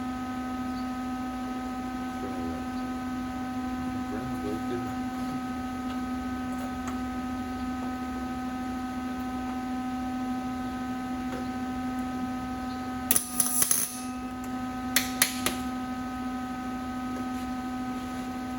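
A welding machine on a Mack Cruiseliner radiator bracket repair gives off a steady tonal electrical hum throughout, with a few faint clicks and brief crackles near the end and no talking.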